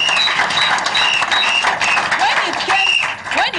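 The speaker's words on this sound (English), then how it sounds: "Let's clap for this High Court judge" Studio applause on a live radio call-in programme, steady loud clapping that fills the space while voices talk over it.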